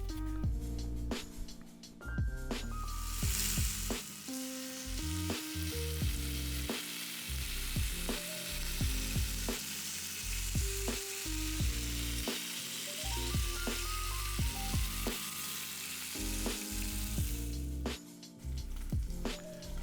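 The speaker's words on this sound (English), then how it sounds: "So I'm gonna let these saute for a second" Oxtails seasoned with salt and garlic sauté in a hot pot, a continuous close crackling sizzle with repeated scraping stirs and light taps.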